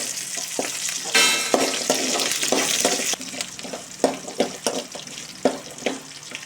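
Peeled small onions sizzle and crackle loudly as they hit hot oil with chillies, curry leaves and garlic for a brinjal tamarind curry, with scraping stirs and clinks punctuating the frying.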